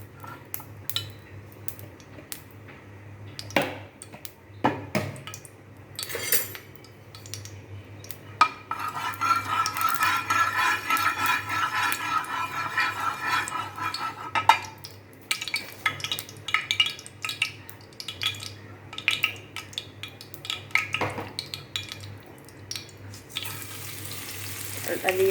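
Pulao rice being fried in a little ghee in a pot, with intermittent metal spoon clinks and scraping against the pot over a soft, steady frying hiss at moderate volume.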